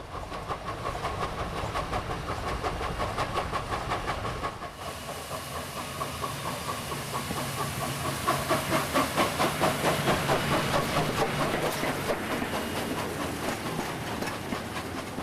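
An SNCF 141 R steam locomotive runs at reduced speed over a section of track works, with a rhythmic chuffing exhaust and hiss that grows steadier and more pronounced partway through, heard from close by.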